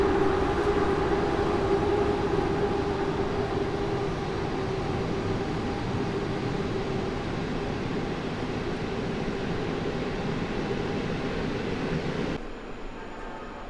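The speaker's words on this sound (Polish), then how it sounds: "a w tle rusza siódemka z pociągiem Naukowska" A train pulls away from platform 7 at Warszawa Zachodnia station amid construction work, a continuous loud rumble with a steady tonal whine running throughout before cutting off abruptly near the end.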